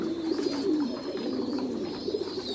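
Pigeons cooing at a pigeon farm, a continuous layered chorus of soft, throaty coos from many birds close by, with no talking.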